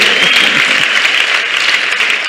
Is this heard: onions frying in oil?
no